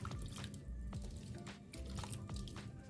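Jamaican cherries are washed in water, with soft dripping, splashing and squishing sounds as the fruit is moved around, faint and close with a continuous low rumble underneath.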